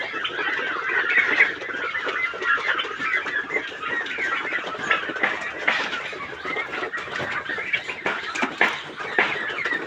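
Turkey chicks call continuously, a dense chorus of high peeping and chattering close by on a small turkey farm.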